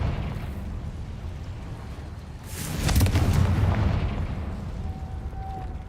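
The Confringo explosive spell in the Hogwarts Legacy video game, a single booming blast that swells and rumbles for a couple of seconds over a steady game ambience before fading.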